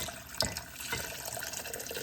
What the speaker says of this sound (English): And pour this into the other bowl